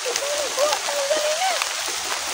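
Heavy rain pours down in a continuous broadband hiss while a voice talks over it.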